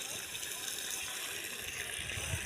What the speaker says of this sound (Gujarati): જો પાણી ચાલુ કરી દીધું છે ખેતરમાં.